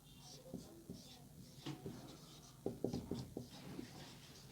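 Marker or chalk strokes scrape across a board during an accountancy lesson on journal entries, a series of short rubbing bursts close by, clustered toward the end, with room noise between.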